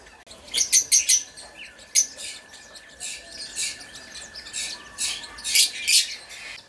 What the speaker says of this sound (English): It's called a Pacific pocket parrot.